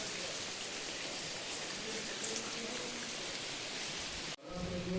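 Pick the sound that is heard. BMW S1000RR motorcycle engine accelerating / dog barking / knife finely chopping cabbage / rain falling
rain falling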